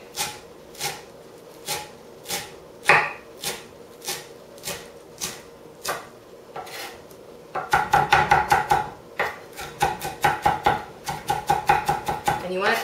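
A knife chops a handful of fresh cilantro finely for guacamole, sharp taps on a board at first spaced out, then quicker bursts of rapid chopping up close.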